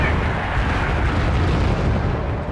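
Cluster bombs detonate in the Wargame: Red Dragon strategy game during a North Korean assault on a Russian port, a dense, loud rumbling roar of overlapping blasts that fills the whole moment.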